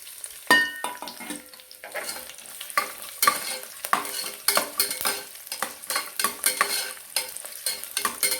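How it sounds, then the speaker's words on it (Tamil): Garlic, fenugreek seeds, dried chillies and curry leaves sauté in hot oil, crackling and sizzling up close while a spoon stirs and scrapes the pan in repeated strokes. "இந்த வெள்ளைப்பூடையும் லேசாக போட்டு வதக்கிக்கோங்க"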